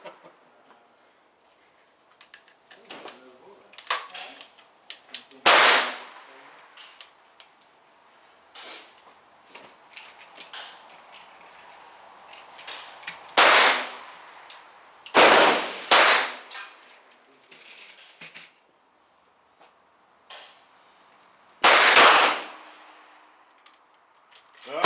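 Sharp gunshots from outdoor target shooting at silhouette targets crack out one at a time at irregular intervals, loud and close, with quiet pauses and faint background noise between shots.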